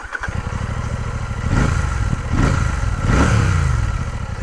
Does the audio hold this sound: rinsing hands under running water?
no